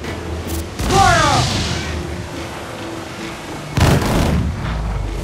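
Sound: ship cannons firing, from video game Assassin's Creed 4 Black Flag

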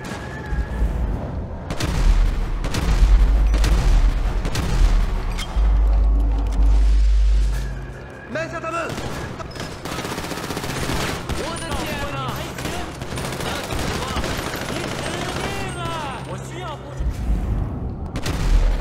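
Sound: gunfire in a shootout, from video game GTA 5

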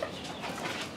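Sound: Nagasaki breed hen clucking

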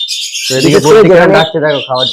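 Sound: budgerigar calling

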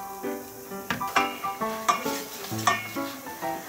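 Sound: seaweed and water going into a pot for seaweed soup

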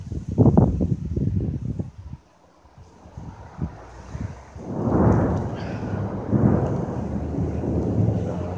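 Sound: thunder

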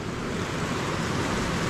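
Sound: water rushing over a weir

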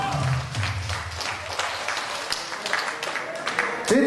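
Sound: audience applause for a woman

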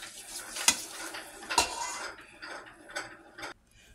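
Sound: stirring a roux in a big pot

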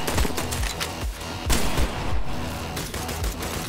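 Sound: gunfire in the video game I Am Your Beast

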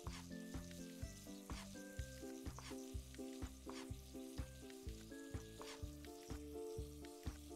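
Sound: mushroom risotto sizzling while cooking in restaurant video game

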